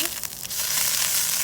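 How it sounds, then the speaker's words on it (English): Butter sizzles and fries on a hot grill griddle, a steady broadband hiss that holds close and fairly loud throughout, with a few faint crackles near the start. "The grill is nice and hot, so let's go ahead and get started. We're gonna throw a little butter on here."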